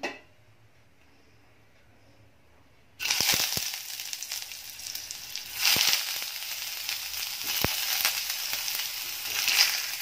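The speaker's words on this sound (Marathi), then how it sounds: "कांदे फक्त थोडा वेळ परतून घ्यायचे आहेत, 2-3 मिनिटं।" Onions sizzle loudly as they hit a little hot oil in a wok, a steady crackling fry with occasional sharp pops and stirring scrapes, preceded by a few seconds of near silence.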